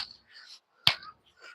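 A single sharp hand clap during a morning yoga exercise session lands between quiet spoken words, crisp and close, with soft voices before and after it.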